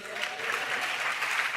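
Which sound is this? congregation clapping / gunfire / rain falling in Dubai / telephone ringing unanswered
congregation clapping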